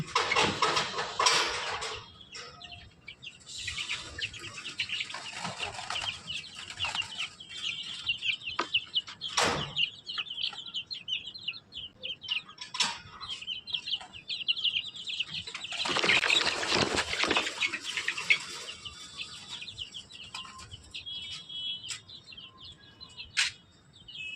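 Grown chickens cluck and stir in a yard, moderately close, with scattered calls, a few wing flaps and rustling spread over the stretch, and no talking.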